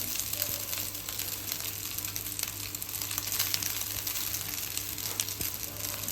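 Cooked basmati rice fries in a hot pan for egg fried rice, giving a dense, steady sizzle with occasional scraping from stirring.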